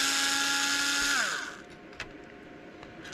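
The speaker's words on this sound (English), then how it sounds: "Just see if I can just undo those 4 screws." Powered screwdriver whirring steadily as it undoes screws on a Sega Dreamcast console during a repair, then winding down to a stop, followed by faint clicks of handling.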